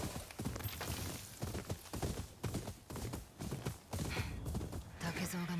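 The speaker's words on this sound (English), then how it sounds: "Why running when you have a horse to do the running for you?" Horse hooves pound in a rhythmic gallop in the PS5 video game Ghost of Yotei, steady clip-clop beats close and prominent, with a speaking voice over them.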